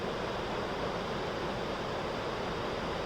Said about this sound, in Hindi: और ये झरना है और ये पानी देखो कहाँ आ रहा है